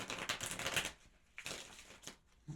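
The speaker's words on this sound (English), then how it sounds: "Couple of shuffles." Quick papery riffles of tarot cards being shuffled, a couple of short bursts separated by brief pauses, soft and close.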